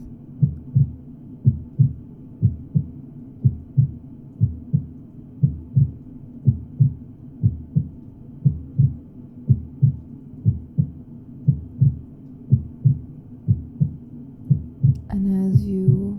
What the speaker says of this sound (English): Are they in tune with the heartbeat of Mother Earth?